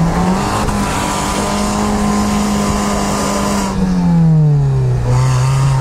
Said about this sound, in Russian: давай обороты, Леха